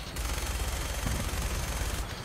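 Rapid automatic gunfire in Fallout 4, shooting at cars, a dense continuous rattle of shots lasting about two seconds, loud and close with no talk.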